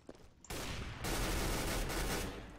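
Negev machine gun fire in CS:GO, loud continuous bursts of rapid automatic shots that cut in abruptly, pause briefly, then roar on in a sustained stream before easing off.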